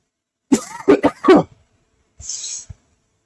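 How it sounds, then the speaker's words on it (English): A close, harsh cough from a person with a lung condition, in a quick burst of three or four hacks, followed after a pause by a breathy throat-clearing rasp. "My apologies about the cough there"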